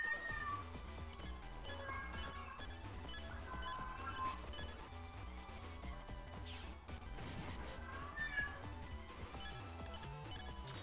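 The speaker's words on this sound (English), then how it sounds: "God damn this cat." A cat meowing in the video game Mega Man Battle Network 2, repeated cries over a busy game soundtrack.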